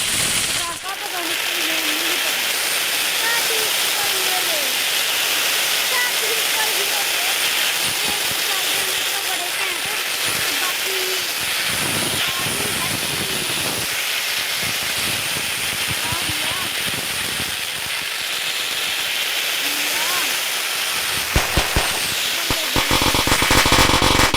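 Diwali firecrackers, including snake crackers, burn with a long, continuous fizzing hiss and sputter, ending in a few sharp pops, while people chatter in the background.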